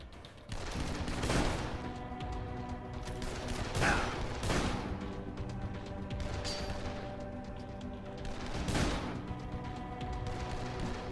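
Rapid bursts of gunfire in the video game Dead Island on PS4 crackle repeatedly, with loud sharp volleys standing out over continuous shooting and a dense, busy background.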